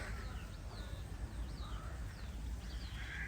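Several calls of a white crow sound at a moderate distance over a constant low background hum, coming in short repeated caws.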